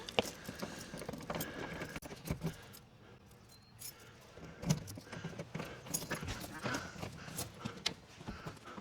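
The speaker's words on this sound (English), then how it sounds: "Gotta find the right key here. Got a lot of keys there, huh?" A large bunch of keys jangles and clinks in bursts while someone searches for the right one, close and fairly quiet, with a short pause midway and people talking.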